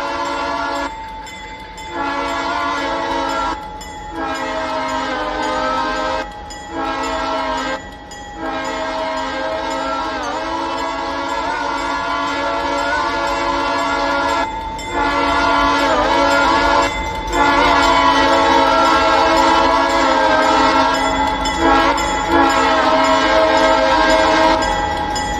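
An Edison Valley Railroad train passes close by, its loud multi-tone horn blaring in long blasts with short gaps over a steady rumble of the moving cars.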